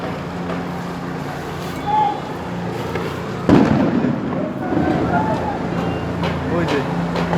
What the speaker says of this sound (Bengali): ওই যে গুলি করছে ওই যে গুলি করছে